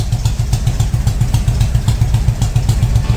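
A Harley-Davidson touring motorcycle engine runs close and loud with a fast, lumpy, rhythmic idle pulse, heard alone without any voices.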